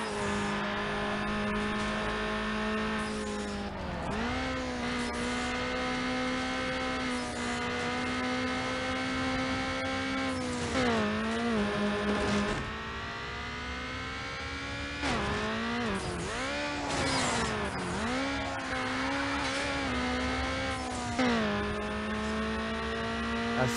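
A race car engine in Need for Speed Underground holds a high, strained drone near top speed, with repeated dips and surges as the revs drop and climb again, steady and loud throughout with no talking.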